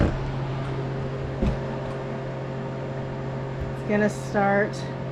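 A Harvest Right freeze dryer beginning its cycle, loaded with kale: a steady mechanical hum with a low tonal drone, then short beeps near the end, heard close in a quiet room.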